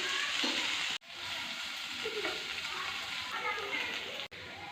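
Baby potatoes fry in a pan with a constant soft sizzle and faint crackle, with the steady hiss filling the background.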